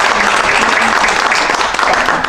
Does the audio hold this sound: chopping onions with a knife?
no